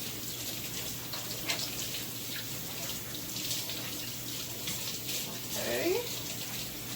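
Tap water running steadily while hands are washed, a close, continuous hiss of water from a faucet with small splashes.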